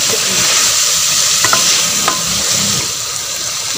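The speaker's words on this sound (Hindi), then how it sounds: "हम इनको भूनेंगे। तो आलू को भूनने में थोड़ा टाइम लगता है" Potatoes fry and sizzle in a pan for an aloo-egg masala dish, with a steady hiss throughout and a few scraping stirs of a spoon against the pan, close and fairly loud.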